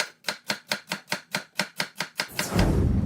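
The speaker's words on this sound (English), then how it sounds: "give your 3 big celery stalks a good rinse and slice them up" Three big rinsed celery stalks being sliced on a cutting board: a steady, rapid run of about a dozen crisp knife chops close up, then a brief rustle of the pieces being gathered.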